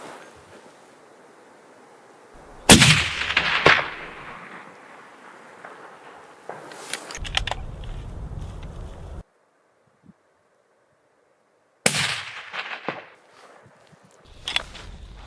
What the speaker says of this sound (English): Not sure what happened with the first shot, but the second one made up for it.